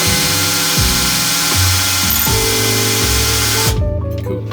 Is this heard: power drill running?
yes